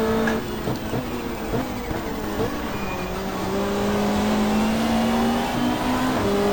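A 1995 Australian Super Touring car in the GTR2 racing game, its engine droning loud and steady at high revs, the pitch gliding and rising through gear changes on a fast Gold Coast street circuit, with no talk.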